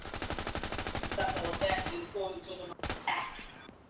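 Rapid gunfire in The Division 2, with a fast stream of loud, evenly spaced shots for about two seconds followed by scattered impacts, a sharp crack and a quieter tail.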